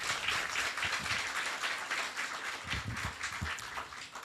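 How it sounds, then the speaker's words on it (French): Audience applause for young entrepreneurs at a business event, a steady wash of many hands clapping with some low thumps, moderately loud and continuous throughout. "demander aux jeunes qui ont décidé de choisir l'entrepreneuriat de s'applaudir très fort"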